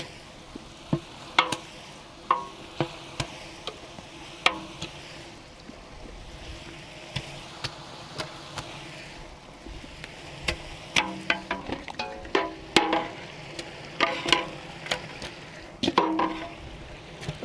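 Chicken for kabsa frying and being stirred in a pan, with a steady low sizzle broken by repeated sharp scrapes and clanks of the utensil against the pot, busier toward the end.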